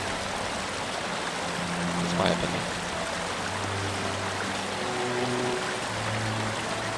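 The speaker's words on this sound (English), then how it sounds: "I would animate this water so that it matches the sound effect more closely" Flowing water in a video game trickles and streams steadily throughout, with a low droning music bed underneath and a brief spoken comment near the start.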